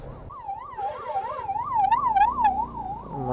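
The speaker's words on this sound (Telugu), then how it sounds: "అంబులెన్స్ కూడా వస్తుంది." A wailing ambulance siren rises and falls in a steady repeating sweep, loud and close, over rumbling traffic noise.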